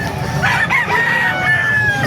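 A rooster crows loudly and close at a chicken market in Calumpit, Bulacan, a drawn-out call over a busy background of other fowl clucking and crowing.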